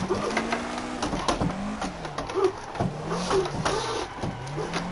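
A car drifting in Assetto Corsa, with a revving engine rising and falling in repeated cycles as the throttle is blipped, and tyre noise underneath, steady and close.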